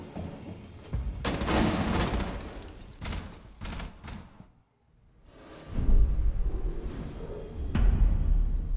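Bursts of rapid gunfire in Rainbow Six Siege, several clustered volleys with a brief quiet gap in the middle, loud and close.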